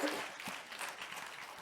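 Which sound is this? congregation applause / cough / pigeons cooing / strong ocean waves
congregation applause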